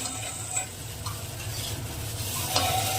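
Potatoes, eggplant and bori (sun-dried lentil dumplings) sizzle steadily in a pan of hot oil, with a few sharper stirring scrapes standing out near the start and end.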